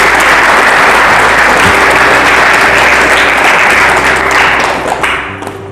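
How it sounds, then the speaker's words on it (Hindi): A church congregation claps together in praise during a worship service, producing loud, dense, sustained applause that fills the room and tapers slightly at the end. "ताली बजाकर खुदा की महिमा करें।"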